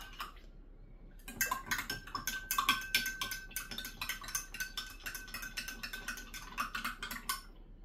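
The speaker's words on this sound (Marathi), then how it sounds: "दोन्ही ग्लासमध्ये मी खूप असं मिश्रण मिक्स करतोय" A spoon stirs a soap mixture inside a glass, giving a run of quick, bright clinks and scrapes close by, steady from start to finish with no voices.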